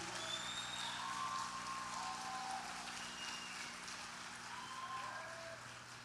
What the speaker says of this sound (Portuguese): Vamos aplaudir por essa igreja